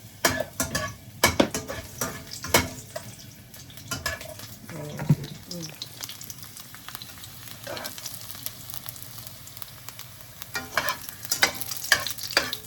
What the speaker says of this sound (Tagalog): Gisa na natin ang bawang at sibuyas.